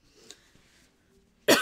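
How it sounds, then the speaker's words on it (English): A single short, loud cough bursts out near the end after a stretch of near silence and faint background murmur, close to the microphone. "Excuse me if I'm coughing today."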